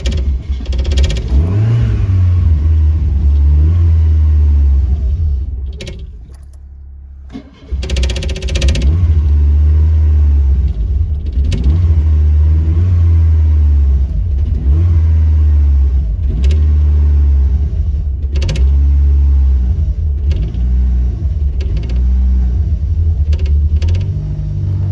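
A 1980s Dodge LeBaron turbo wagon engine runs close and loud, revving unevenly with a rough rumble, dipping briefly partway through before picking back up and holding a steady, throaty idle.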